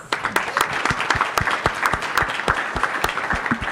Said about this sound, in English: a round of applause for the Aspen Security Forum people